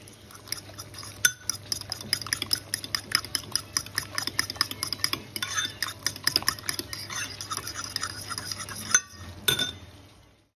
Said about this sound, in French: Dans les œufs, je mets de la ciboulette et je mets du sel. Je vais touiller.